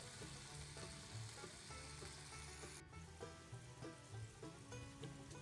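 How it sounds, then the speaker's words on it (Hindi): Chicken pieces fry in oil with a soft, steady crackling sizzle, fairly faint, with a brief dip partway through and light pops and stirring sounds continuing. "तो अभी हम 5 मिनट मज़ीद इसको फ्राई करेंगे।"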